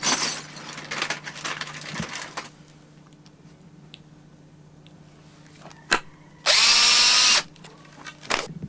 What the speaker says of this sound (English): So a sharp wood screw is just going to, with your drill, is going to go right through that.